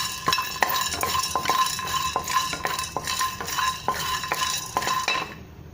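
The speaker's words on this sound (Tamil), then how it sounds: "இதையும் சேர்த்து ட்ரை ரோஸ்ட் பண்ணி எடுத்துக்கோங்க" Garlic and pepper dry roasting in a pan for idli podi, stirred with a utensil in a steady rhythm of scraping clicks and taps against the metal, with a faint dry sizzle beneath and no talking.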